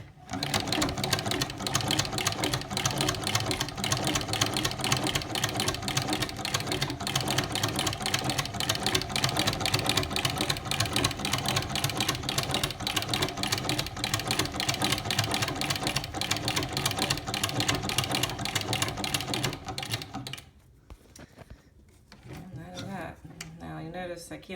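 A circa 1870 American Buttonhole Overseaming and Sewing Machine Company No. 1 sewing machine running, a loud rapid steady mechanical clatter that goes on for about twenty seconds before stopping abruptly, leaving quiet handling noise.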